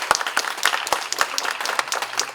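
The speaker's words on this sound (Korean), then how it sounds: "박수로 청해 보겠습니다." A seated audience at a commemorative-project seminar gives dense, steady applause to welcome a presenter. The clapping is continuous and close, with no talk over it.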